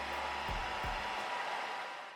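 A hair dryer blows on curly 3B hair with a steady, faint whooshing rush of air, broken by a couple of brief low thumps early on.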